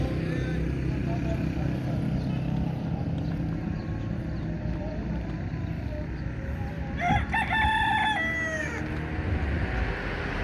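Roosters crow at a Punjab chicken market, one clear crow rising above the noise of traffic and the busy market around it.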